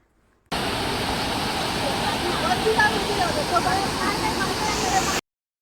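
A waterfall beside a temple set in forested hills gives a steady, dense rushing roar that holds at one even level, close and continuous, with no voices above it.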